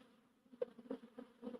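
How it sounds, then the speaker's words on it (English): Honey bees buzzing around a hive box, a faint, wavering hum with a few brief louder pulses as individual bees pass close. "So the bees are like having a heyday."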